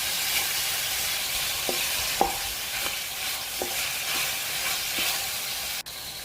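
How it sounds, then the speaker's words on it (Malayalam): Chicken curry fries in a pan as ripe tomatoes are stirred in, giving a steady hiss with a series of sharp utensil scrapes and taps against the pan, fairly close and alone without talk. "2 തക്കാളി ഇട്ടിട്ട് നന്നായി മിക്സ് ചെയ്യാം"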